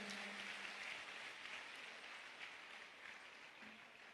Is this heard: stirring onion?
no